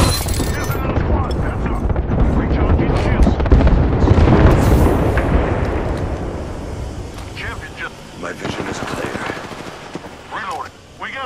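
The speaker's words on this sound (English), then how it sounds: "There's an airstrike inbound." Heavy Apex Legends battle din as an airstrike lands, loud rolling booms layered with rattling automatic gunfire, peaking mid-clip then easing into scattered shots and clatter while voices talk over it.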